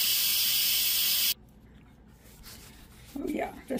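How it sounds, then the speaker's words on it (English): A loud, sharp hiss of steam escaping under pressure from a pressure cooker of elk steak and white northern beans cuts off abruptly, followed by quieter room noise and a brief clatter. "this is letting the steam out"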